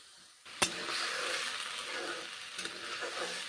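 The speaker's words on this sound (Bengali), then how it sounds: "মশলা ধোয়া জল দিলাম তারপর কষে নিচ্ছি মশলা এইভাবে কষে নিচ্ছি" Water poured into a hot pan of frying spice paste for a Bengali bora curry sets off a sudden splash, then a steady loud sizzle with occasional clinks of stirring.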